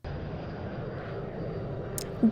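A private airplane in a movie scene from The Da Vinci Code hums as a steady, muffled engine drone throughout, ending in a brief louder bump.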